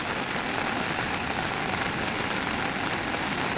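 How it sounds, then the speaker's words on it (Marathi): Heavy monsoon downpour in the Sahyadri hills near the Bhimashankar range in the Konkan, heard as a dense, steady roar of rain that stays loud and unbroken throughout, with no voices. "मुसळधार असा पाऊस पडतो."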